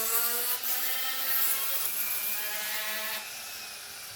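Sandpaper rubbing a rotating wooden bead of hard native Nevada wood, a steady, dense hissing scrape over the hum of a spinning machine, close and continuous with a slight drop near the end.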